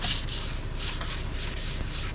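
A sanding sponge rubbing quickly over varnished teak on a sailboat, a steady close scratchy swish in short repeated strokes, with no voices.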